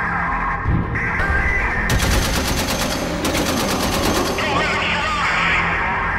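Rapid machine-gun fire in the shooter game Crimson Metal rattles continuously over a dense, rumbling background, with bursts of gunshots layered together.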